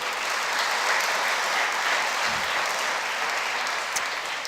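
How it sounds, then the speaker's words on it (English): Audience round of applause honouring a university's fiftieth anniversary at a Three Minute Thesis event, a full steady burst of many hands clapping throughout, with no talk over it. "Give it a round of applause."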